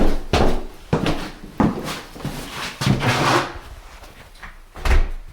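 A series of wooden knocks and thuds with rattling in between as a newly fitted front door is moved and opened nearby.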